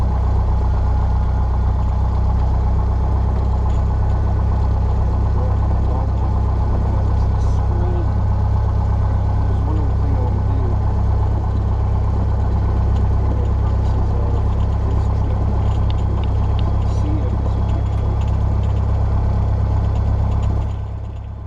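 Small airplane engine idling at 1,000 RPM before a private pilot's first passenger flight, a loud, steady low drone that holds unbroken throughout, with faint speech buried beneath it.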